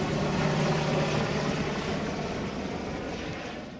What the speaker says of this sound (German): Wieder mal fliegt ein Hubschrauber über unsere Köpfe hinweg.